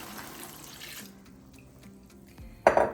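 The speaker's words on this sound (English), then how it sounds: "I'm gonna go ahead and add in my can of pineapple chunks and the sauce" Canned pineapple chunks and their sauce are poured into a pan. A soft, low hum gives way to a sudden, loud wet splash near the end.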